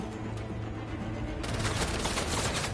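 Gunfire in the Marvel's Spider-Man 2 video game, a dense ongoing barrage of shots and impacts that swells louder partway through, with no talking over it.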